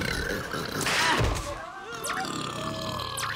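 A loud, drawn-out burp near the start, surrounded by busy background noise and murmuring voices.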